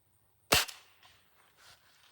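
A Beeman 1022 .22 caliber air rifle fires a pellet through a chronograph, one sharp, loud crack in a quiet room, followed by a few faint mechanical clicks.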